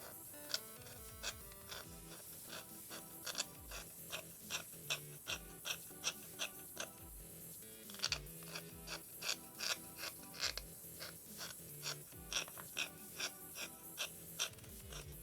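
Pencil sharpener grinding a pencil to a fine point for art work, rhythmic scraping strokes repeating in quick succession, close and fairly loud, with no talk.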